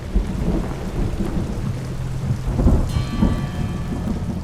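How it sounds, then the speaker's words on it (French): Steady heavy rain of a daily afternoon downpour high in the Ecuadorian mountains near 4000 m, with low rolling thunder rumbling throughout and a louder crack near the middle; continuous and enveloping, no voices. "Il est 16h, c'est l'heure de l'averse quotidienne."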